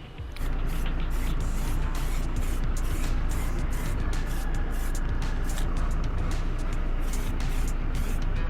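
Steady hiss of spray paint in sparkling silver being applied to Honda ADV 160 motorcycle parts over a surfacer coat, a continuous close, loud spray lasting throughout with little variation.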